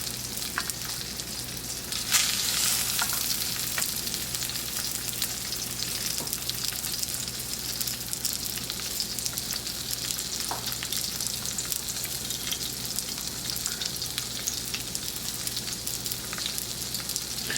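Salmon sears in a pan on a gas stove at high heat, a steady close sizzle and crackle running throughout with a few sharper spits, no voices.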